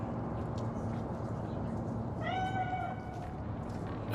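In the video game Cyberpunk 2077, a single clear cat meow, drawn out and rising, sounds near the middle of a steady ambient city hum with no talk over it.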